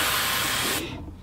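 A spray can sprays in a single close, loud hissing burst that stops sharply partway through, leaving a brief fading tail.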